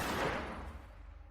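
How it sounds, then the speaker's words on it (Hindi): A single gunshot booms from a distance, a dull blast that rolls away and fades over about a second. "उसे दूर कहीं से गोली चलने की आवाज सुनाई दी।"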